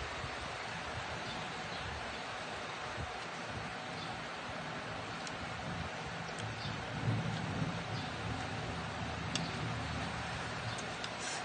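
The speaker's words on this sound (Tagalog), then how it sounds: "Pasensya na po guys kung maingay po ang electric fan at naulan din." An electric fan whirs noisily indoors while rain falls outside, together forming a steady, loud, unbroken hiss and drone for the whole stretch.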